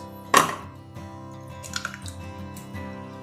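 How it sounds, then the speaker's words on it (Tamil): A single egg cracked into a bowl of chicken pieces for restaurant-style chicken 65, one sharp crack early on followed by faint drips, taps and light handling sounds. "1 முட்டை வந்து உடச்சி ஆட் பண்ணிக்கிறேன்."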